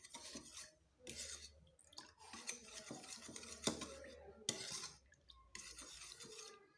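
A spoon scrapes and stirs an orange peel and cornstarch mixture in a pot, with repeated rhythmic scraping strokes and brief pauses, quiet and close.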